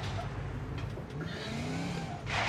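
The engine of a Porsche 918 Spyder Concept in Need for Speed Most Wanted (2012) hums and revs steadily, with a rising whine and a brighter burst of noise at the end.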